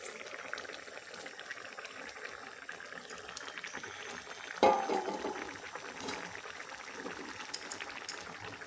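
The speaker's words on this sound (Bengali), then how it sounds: "2-1 মিনিট জলটাকে ভালো মতো ফুটিয়ে নিলাম।" Water at a rolling boil in a cooking pot, a soft continuous bubbling and sputter throughout, with a short louder splash or clatter midway, heard close and without talk.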